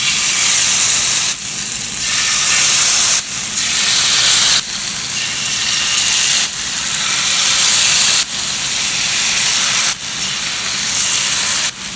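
Prawns sizzle in hot oil in a pan over low heat, making a loud, continuous hiss that swells and dips in repeated waves.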